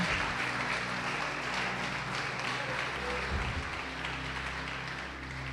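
A church congregation applauding, a steady wash of clapping held at moderate level throughout, with faint voices underneath.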